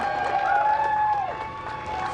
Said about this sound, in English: Small crowd, but big cheers.